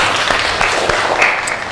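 Brief applause from a classroom audience, a steady wash of many hands clapping, fairly loud and close, with no talk over it.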